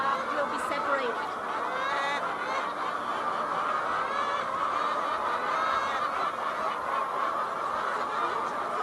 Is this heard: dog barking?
no